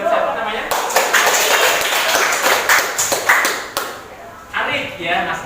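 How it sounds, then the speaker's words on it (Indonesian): A classroom of students claps for a classmate who shared his dream of becoming a doctor, a busy burst of hand claps lasting several seconds with overlapping voices and chatter mixed in. "tepuk tangan buat siapa namanya?"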